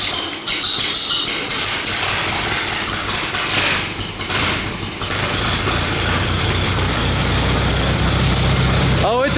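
Antique Allis Chalmers WD45 tractor engine is started with its starter button, a loud steady close rumble with some rough knocking early on, running continuously for several seconds, and a short squeaky sound at the very end.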